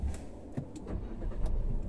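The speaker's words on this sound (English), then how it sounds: "So I started the car." A 2023 Chery Omoda 5 engine starts and settles into a low rumble, with faint clicks and a steady broadband hum, no talking.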